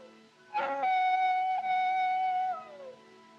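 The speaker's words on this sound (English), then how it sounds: "Them coyotes give me the creeps. It sounds, well, it sounds just like a baby." A coyote howls at night out on open Western frontier country, a single drawn-out wavering cry that rises sharply, holds its pitch and then slides down as it fades, heard alone without talk.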